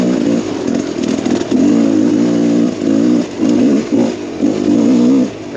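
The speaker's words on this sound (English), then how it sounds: "Love the torque of this engine." A Rieju MR Pro 300 motorcycle engine revs hard in repeated bursts, loud and close, its throaty drone rising and dropping between throttle pulls with no talk.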